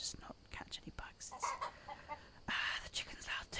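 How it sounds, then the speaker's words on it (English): A farm chicken clucks in a series of short, irregular bursts with brief louder patches, heard close alongside soft whispering. "The chicken's loud too."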